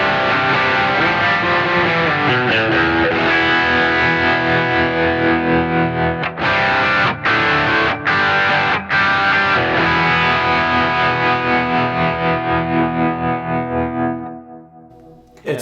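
Electric guitar running through a Kemper amp with a ducking effect that swells in as chords are held: strummed, effected chords with a few choppy stabs midway, then a long ringing chord that fades out, with no talking.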